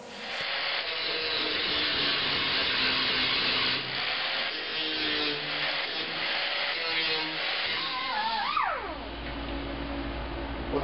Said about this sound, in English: With a final sanding